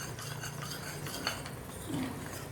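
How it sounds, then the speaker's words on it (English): Spoon stirring Schezwan chutney mixed with a little water in a bowl, a steady soft scraping and clinking close up, with no voices. "Mix it nicely. There should be no lumps."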